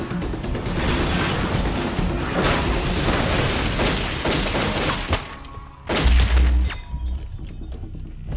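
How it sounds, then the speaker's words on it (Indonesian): A loud, sustained roar of blasts and crashing debris rumbles for several seconds, dips briefly, then a final heavy boom and rumble follow. "Doc dan Claire berhasil selamat dari ledakan itu"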